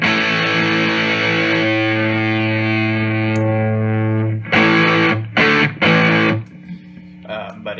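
Electric guitar through the Varmint distortion pedal on its op amp setting without clipping diodes, loud and lightly driven, with long sustained chords ringing out before a few short choppy strummed bursts and a trailing note.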